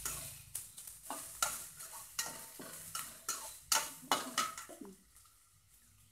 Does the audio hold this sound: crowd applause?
no